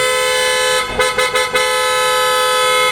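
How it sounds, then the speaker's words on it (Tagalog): A loud, sustained aftermarket PIAA horn on a Mitsubishi Montero blares nearby, briefly broken by a few quick stutters in the middle before it holds steady again. "sobrang lakas ng ating auto style horn po"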